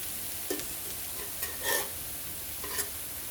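Prawns for Malaysian mee goreng fry on a hot barbecue plate, giving a soft, steady sizzle with a few brief scraping stir sounds, fairly quiet and close, with no speech.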